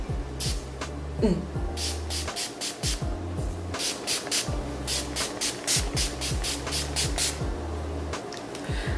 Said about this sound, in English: let's set our faces with the Urban Decay All Nighter spray